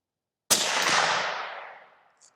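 A single suppressed rifle shot through a TiTrex 360Ti suppressor cracks sharply and loudly, then trails off in a broad rolling echo lasting over a second.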